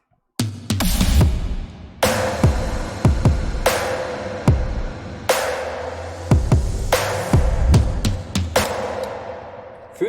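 A future bass EDM drum loop plays on its own: punchy kicks, a swelling reverse kick, sharp claps and ticking open and closed hi-hats repeat in a steady, loud groove.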